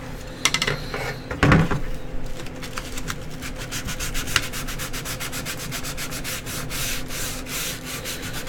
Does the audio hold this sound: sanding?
yes